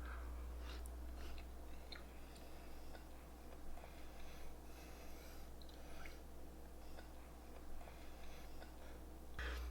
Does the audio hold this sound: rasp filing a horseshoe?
no